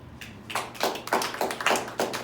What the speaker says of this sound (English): clap it up if you like beans